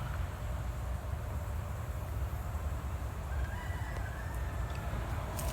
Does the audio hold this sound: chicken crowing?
yes